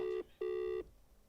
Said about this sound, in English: I know I'm phoning her.